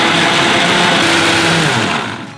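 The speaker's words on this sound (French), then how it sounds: "Maintenant, il n'y a plus qu'à passer ça au mixeur" A kitchen blender whirs through protein pancake batter, a loud, steady buzzing grind close by that tapers off as it is switched off at the end.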